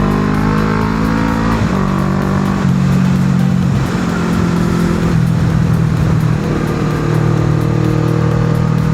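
A 1995 Honda CB500 PC26 motorcycle pulls hard in second gear, its engine note droning loud and close as the revs climb and dip over several seconds, with steady wind rush and no talking.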